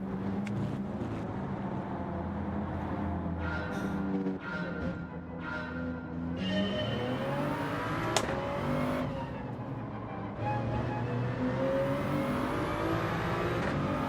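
Toyota Supra engine in Gran Turismo 7, revving hard and shifting through gears with rising and falling whine, steady and loud, with brief lifts and a sharp click midway, no talk.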